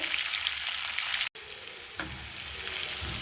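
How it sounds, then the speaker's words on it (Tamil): Onions frying in a pan for Karnataka-style karabath, a steady close sizzle with a brief dropout partway through and faint stirring, no voices. "அது கொஞ்சம் நல்லா வதங்கணும்."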